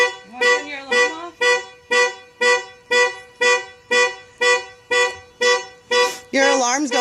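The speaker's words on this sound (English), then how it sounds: "you want to turn your alarm off?" A car's alarm honks in loud, regular pulses, roughly ten blasts in steady rhythm, and a voice breaks in briefly over the last one.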